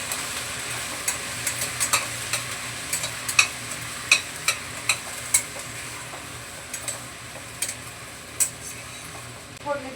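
Spices tempering in hot oil for a home-cooked vegetable dish, with a steady sizzle and a series of sharp clinks and scrapes as the pan is stirred, repeating irregularly throughout.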